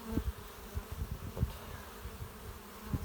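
Honey bees buzz steadily around a hive in a Polish apiary, a continuous low hum broken by several louder passes as individual bees fly close.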